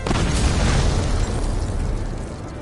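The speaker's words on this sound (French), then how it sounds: "avec le cristal qui a explosé dans son corps là" A crystal bursts inside a body in God of War, a loud, sustained rumbling blast with heavy low-end boom that fades slightly over a few seconds, no voices.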